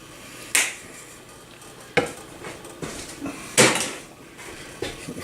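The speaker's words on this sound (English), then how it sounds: "Mix it all in." Ingredients being mixed in a pot in a home kitchen while making barbecue, with a few sharp clanks of a utensil against the pot between quieter scraping and shuffling.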